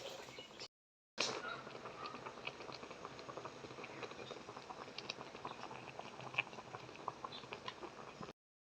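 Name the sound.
cassava tupig mixture boiling in pot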